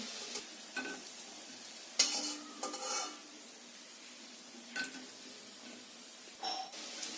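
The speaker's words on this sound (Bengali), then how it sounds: "এইভাবে সমস্ত বড়াগুলোকে ভেজে নিতে হবে" Lentil fritters (bora) frying in oil: a soft steady sizzle under intermittent scraping and clinking of a spatula against the pan as they are stirred and turned, close and quiet.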